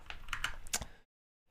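Quick typing on a computer keyboard, a short burst of several crisp key clicks close up, then silence.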